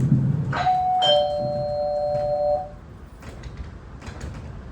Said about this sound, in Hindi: बार-बार घंटी बजा रही है